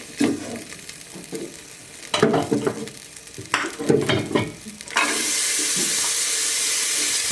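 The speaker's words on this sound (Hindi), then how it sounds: "इसमें प्याज डाल के उसको फ्राई कर लेंगे।" Onions frying in a pan for sarson ka saag, with scraping stir strokes and clatter near the mic, ending in a steady loud sizzle.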